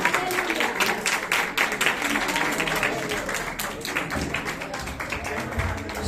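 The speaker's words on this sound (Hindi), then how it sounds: "आवाज आनी चाहिए तालियों की।" An audience claps loudly and continuously at the opening ceremony of a sewing center in Dhoke Syedan, Rawalpindi, a dense, sustained wash of hand claps filling the whole stretch.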